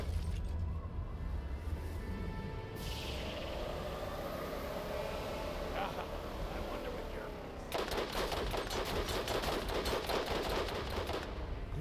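Rapid gunfire from a weapon in the shooter game Borderlands, a dense burst at the start and another sustained burst near the end, over constant game background noise.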